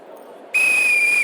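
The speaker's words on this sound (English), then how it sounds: "On my whistle, 3, 2, 1." A single sustained, piercing whistle blast cuts sharply across a low murmur of chatter in the room, signalling the start of a short greeting round at a business launch event for entrepreneurs.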